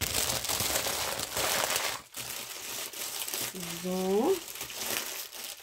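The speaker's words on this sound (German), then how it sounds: "die Bilder sind nochmal mit einer Folie umwickelt" Plastic foil wrapped around diamond painting pictures crinkles loudly and close while being unwrapped, with a brief pause in the middle and a voice speaking over part of it.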